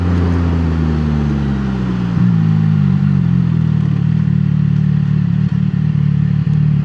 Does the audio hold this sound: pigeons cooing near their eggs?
no